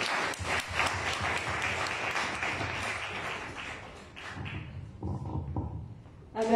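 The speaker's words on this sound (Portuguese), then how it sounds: "Uma salva de palmas para" An audience applauds after a short talk on the role of publishers, a full burst of many hands clapping that slowly thins out, with a few scattered claps and some thumps near the end.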